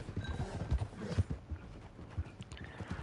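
Horse hooves in Red Dead Redemption 2: a steady, uneven clip-clop of galloping hooves over dirt, close and moderately loud, with a brief whinny and rustling along the way.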